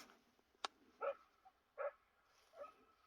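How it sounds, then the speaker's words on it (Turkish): Three or four sharp dog barks at a distance, spaced out with quiet pauses between them, fairly faint against a quiet background. "Ya sürekli köpekler var buralarda ya."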